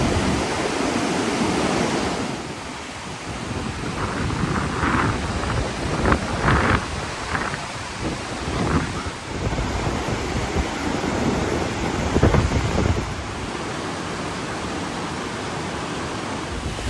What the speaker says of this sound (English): it's like a kind of a tiny little waterfall with a little bit of backwash there